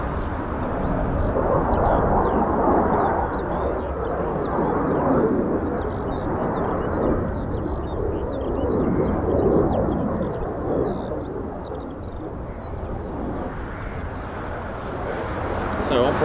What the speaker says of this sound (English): sounds from the F-35s there